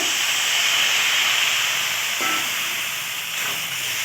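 Water splashed into a hot pan of village-style summer vegetable curry sets off a loud, steady steam hiss that holds for about four seconds and softens slightly toward the end.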